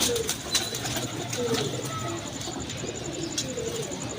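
Pigeons cooing in a cage, soft repeated coos at intervals with some flutter and a voice talking over them, moderately near.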